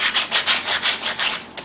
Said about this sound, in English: Piece of sandpaper.